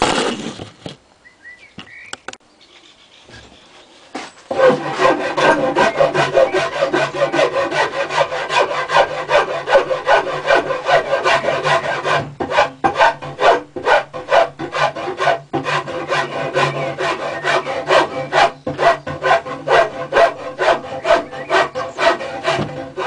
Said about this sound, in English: Now that I've gone over it with the fine rasp,